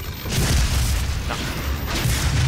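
Gunfire in the Doom video game: loud, dense booming shots that run almost continuously through the whole stretch, heavy low rumble beneath and no speech over them.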